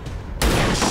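A single heavy gunshot in XCOM 2 goes off sharply after a brief quiet moment, loud and close, with a booming tail that rings out to the end.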